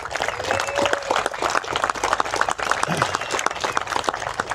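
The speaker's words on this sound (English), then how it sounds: "So give them a big round of applause." A crowd at an off-road endurance race drivers' meeting applauds its volunteers with dense, continuous clapping that blends into outdoor crowd noise, moderately loud throughout.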